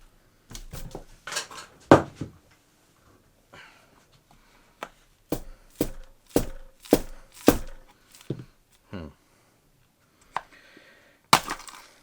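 A blade cuts into a sealed plastic paydirt container, a series of sharp, close cracks and snaps in uneven bursts with quiet gaps between, no talking.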